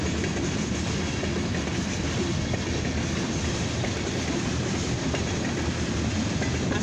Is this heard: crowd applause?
no